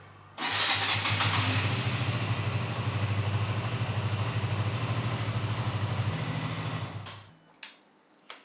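A KTM RC 200 motorcycle engine starts and idles steadily during warm-up, a loud, close, even rumble that cuts off after about seven seconds, followed by a couple of faint clicks.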